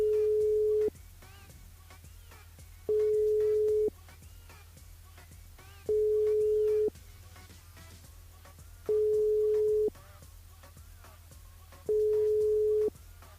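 A telephone line tone on a radio call-in show, pulsing in five steady, evenly spaced bursts about a second long over a faint low hum, with no talk.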